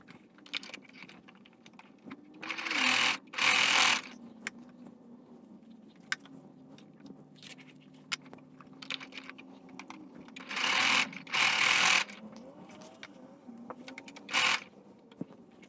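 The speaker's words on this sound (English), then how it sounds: "we're gonna stitch these two patches together" Sewing machine stitching two fabric patches together while a dress form bustline is expanded, heard in two loud bursts of rapid mechanical stitching separated by quieter handling noises and a faint steady hum.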